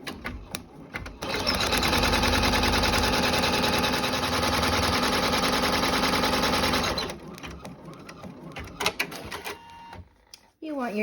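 A sewing machine stitches ears onto a hooded bath towel made from fast-dry towel fabric, a loud, steady whirring run of about five seconds, followed by brief handling clicks and rustles.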